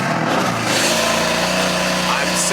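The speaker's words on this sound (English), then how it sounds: "cold start in the M4." A BMW M4 fires up from a cold start, its engine roaring loudly and continuously at high idle, close to the listener.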